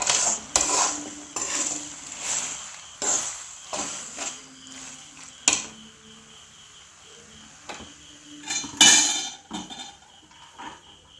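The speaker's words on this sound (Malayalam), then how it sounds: "എല്ലാം കൂടെ നമുക്ക് ഇളക്കി യോജിപ്പിക്കാം" Pasta tossed with masala in a pan, heard as intermittent metallic clinks and scrapes of a spoon against the pan at an uneven rhythm, close and fairly loud, with no talking.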